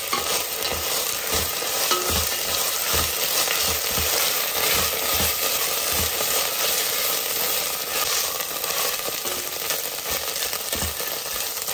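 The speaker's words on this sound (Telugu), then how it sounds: "జింజర్ గార్లిక్ పేస్ట్ వేగే వరకు మనకు టైం ఉంది" Ginger garlic paste frying in a pan for masala multigrain khichdi, a steady loud sizzle with a spoon stirring and scraping throughout.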